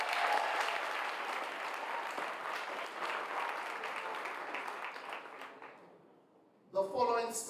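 Applause from an awards ceremony audience for the graduating Batch 57, a broad sustained clapping that gradually fades out, followed by a voice beginning to speak at the end.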